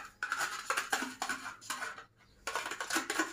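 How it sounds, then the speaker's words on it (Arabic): Crinkling, tapping handling of a plastic yogurt cup being opened, several short scraping bursts with a brief pause, close and alone. "نفتح كوباية الزبادي"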